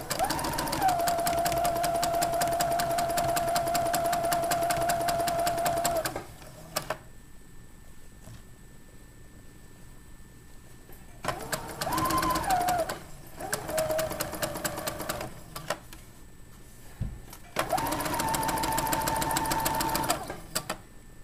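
A sewing machine stitches a 5/8 inch seam in fabric, running in long steady bursts of rapid needle clatter with a motor whine, close up, separated by quiet pauses when it stops and starts again.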